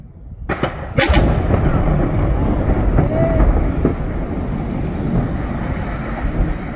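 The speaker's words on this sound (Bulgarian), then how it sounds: "Че доста голям гръм си беше." A single loud explosive boom from a cement plant demolition bursts out, followed by a long, heavy rumble that rolls on and slowly settles, with no voices.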